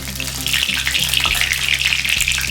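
Red chillies crackle in hot coconut oil while a beetroot chutney is being made, giving a loud, even sizzle with a low steady hum beneath it and no voices.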